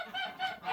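Farmyard ducks give a few faint honking, nasal quacks in quick succession, fairly distant and alone with no talk.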